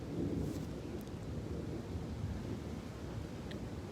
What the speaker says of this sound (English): I don't know if you can hear the thunder and the lightning